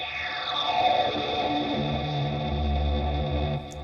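Instrument run through a distortion effect plugin, a sustained buzzing, heavily processed tone with shifting pitch and a deepening low end, steady and fairly loud before cutting off near the end.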